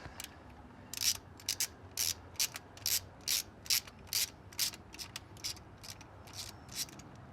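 A ratchet wrench turns out a 10mm bolt on a Nissan Pathfinder engine during spark plug work, giving a rapid series of close, crisp clicking bursts in an uneven rhythm.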